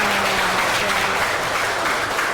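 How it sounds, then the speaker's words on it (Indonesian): A classroom of students claps for the presenting groups, dense steady applause filling the whole stretch, loud and close, with a voice faintly under it at the start. "Kita beri aplaus untuk semuanya."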